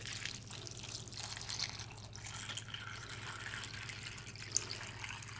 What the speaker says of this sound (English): And you will want to cover it with water.